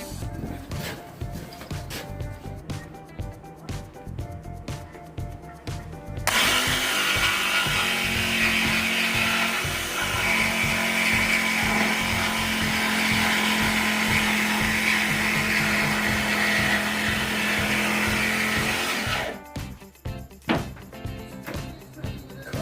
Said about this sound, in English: that is a circular saw. I can cut.